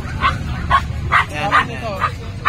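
Several French bulldog puppies, including a two-month-old micro French, give repeated short yips and barks at a pet market stall. Four or five bursts arrive at a steady pace, close and fairly loud, over a low crowd rumble and background talk.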